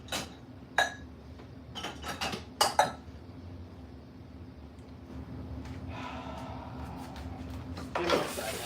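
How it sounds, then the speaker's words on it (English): Metal measuring cups and a bowl clink and clatter on a kitchen counter in a few sharp, close knocks with quiet pauses and faint rustling between them. "Gotta get out my little measuring cups and such. My little bowl so I can melt my butter."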